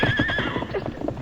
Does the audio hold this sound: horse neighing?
yes